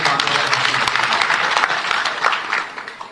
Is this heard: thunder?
no